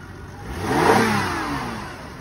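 A 2003 Toyota Avalon's engine revs up once at an auction, swelling to a peak and then easing back down, heard close by with no talking.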